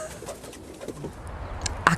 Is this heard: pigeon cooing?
yes